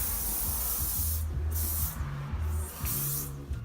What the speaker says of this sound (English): I use a setting spray by Krylon